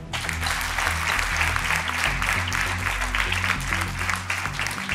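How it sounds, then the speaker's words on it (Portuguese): A studio audience applauds contestants on a Portuguese television game show, steady clapping heard over a low musical bed throughout. "Um aplauso para eles!"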